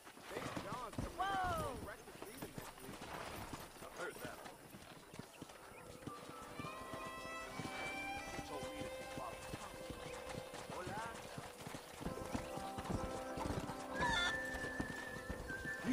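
Horses gallop in the Western video game Red Dead Redemption: rapid clip-clop hoofbeats run throughout, with whinnies, a rooster-like call, and voices speaking over the scene.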